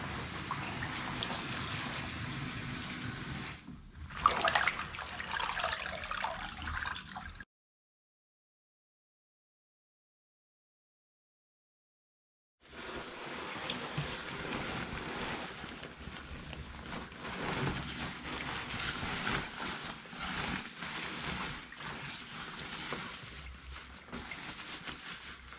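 Water drains from a basin after rain gear has soaked in Nikwax TX Direct, a steady trickling wash that stops into a few seconds of silence and then resumes, with no voices.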